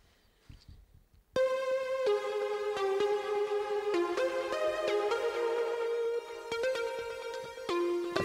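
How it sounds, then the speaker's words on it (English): Layered synth lead from the Massive synthesizer, four stacked voices playing one melody in unison, enters after a short quiet intro and holds sustained, bright notes with stepwise pitch changes, loud and upfront throughout. "the main melody consists of four different layers, which all plays the same melody."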